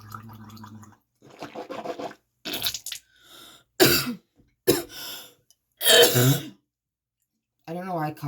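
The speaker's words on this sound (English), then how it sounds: "I don't know why I cough whenever I brush my teeth." Harsh coughs and throat clearing come in separate bursts, mixed with scrubbing, brushing-like sounds and short pauses of silence between them.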